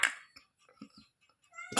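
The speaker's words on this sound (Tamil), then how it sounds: "பூனையும் நாயும் சண்டை போடுது மீனுக்கு." A cat meowing near fried fish, with scuffling from a cat and dog fighting, heard as short faint mews and scrappy bursts with a louder cry at the start and end, close by in a quiet room.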